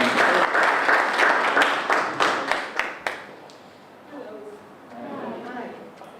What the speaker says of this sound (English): So why don't we clap for her as she comes